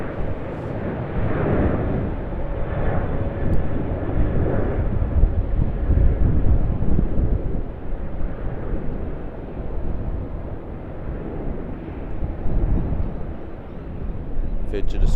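Virgin Australia Boeing 737-800 jet at Sydney Airport, a loud, steady broadband engine roar with wind rumble that holds throughout, close and continuous, with no talk.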